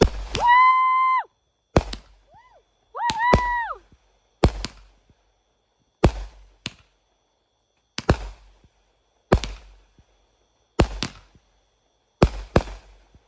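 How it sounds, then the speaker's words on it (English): An Acrobatic Show firework cake fires outdoors on the Fourth of July, sending out sharp, loud bangs at a steady pace, with rising whistles between the first few shots. "This one is called Acrobatic Show, guys. Some of these sound like actual bombs being detonated."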